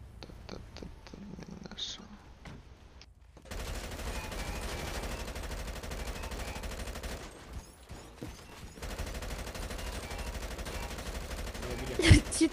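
Rapid gunfire rattles through a video game match, bursts running almost continuously after a sparse opening, with quiet background sounds and a sharp impact near the end.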